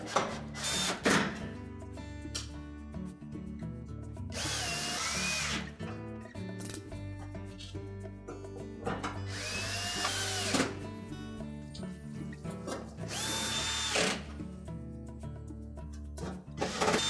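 A power drill drives mounting screws into the control panel of a Whirlpool range in several loud whirring bursts of a few seconds each, separated by brief pauses and clicks of handling.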